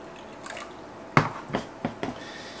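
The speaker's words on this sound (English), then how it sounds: "I'll put some water in for the first guy." Water splashes and drips in a few short, distinct bursts as it is poured into a ball python hatchling's enclosure, close by and fairly loud against a quiet background.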